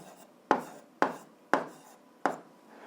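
Pen strokes on paper while working an algebra exercise: four sharp, evenly spaced scratches about half a second apart, close and fairly quiet, with no talking.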